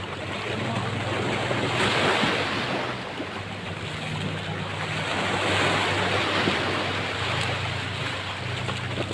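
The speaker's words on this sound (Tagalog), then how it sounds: "Gandang dagat ito sa Nasugbo, Batangas." Sea waves wash onto the beach at Nasugbu, Batangas, a steady roar of surf swelling and easing in broad surges, with wind buffeting the microphone and no talk.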